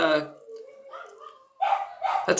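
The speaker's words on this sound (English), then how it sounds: "And my dogs are barking because they don't have a good relationship with sounds" Several pet dogs bark and yip near the mic in short bursts, mixed in with a person speaking over them.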